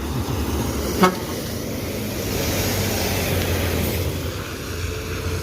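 An arriving Gumbaran Jaya executive bus's engine rumbles steadily amid road traffic noise, with a short horn toot near the start.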